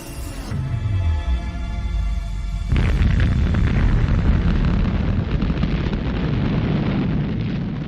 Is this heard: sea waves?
no